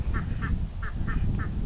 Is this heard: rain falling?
no